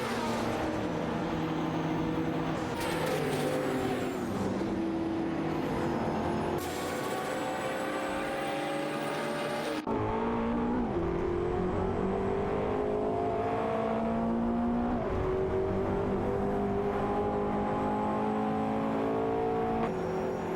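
Race cars lapping in a video game race, engines rising and falling in pitch as they rev and shift, several cars overlapping in a continuous loud whine with a sharp cut midway.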